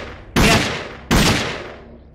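Two loud pistol shots ring out in the shooter game Dead Effect, spaced under a second apart, each a sharp crack trailing into a long decaying echo, with no talk.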